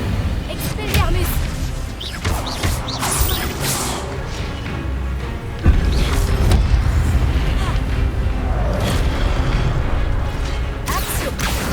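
Combat in the video game Hogwarts Legacy as Incendio fire spells are cast, a dense run of magical bursts, booms and crackling impacts with a sharp hit near the midpoint, sustained and loud throughout, with no speech.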